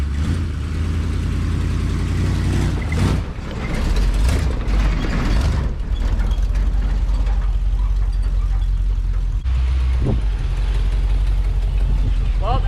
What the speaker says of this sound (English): let's drive my F-250 Snowfighter across the 2x4 gauntlet